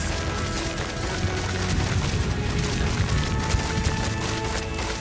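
A magical explosion spell erupts in Hogwarts Legacy, a dense, sustained roar of crashing, rumbling noise that stays loud and steady for several seconds with no clear pauses.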